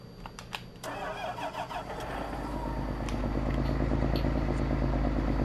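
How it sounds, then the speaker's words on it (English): John Deere 9R tractor engine in Farming Simulator 22 cranking with a few sharp clicks and starter turns, then catching and settling into a deep, steady, rising diesel rumble that stays loud and close. "Sounds like there's a bit of a knock in the engine."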